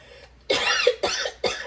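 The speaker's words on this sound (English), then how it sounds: "Like, you see, I'm coughing." Three sharp, harsh coughs close by, each a short burst with a brief pause between, after a quiet moment, set off by pungent seafood boil spices of mustard seeds and pepper flakes.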